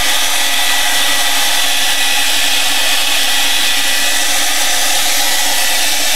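A handheld heat tool or hair dryer blows steadily over a wet art journal background, a continuous loud whooshing drone with no talk.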